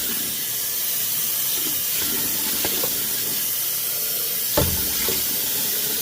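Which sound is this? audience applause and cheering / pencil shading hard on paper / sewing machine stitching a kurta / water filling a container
water filling a container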